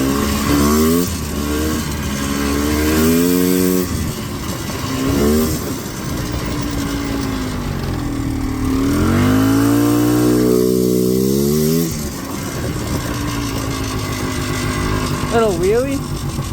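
Four-wheeler ATV engine climbing a hill, loud and close, revving up and down in repeated surges with rising and falling pitch, the engine droning under wind noise, with a brief high whine near the end.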